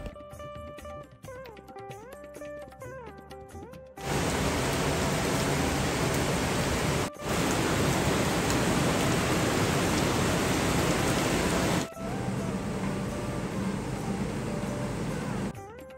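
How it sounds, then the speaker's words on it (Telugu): Heavy rain with strong wind pours down as a loud, steady broadband roar during an evening storm, starting abruptly after a few seconds of quieter sound and continuing unbroken apart from two brief dips. "వర్షంతో పాటు గాలి కూడా చాలా ఎక్కువగా ఉంది."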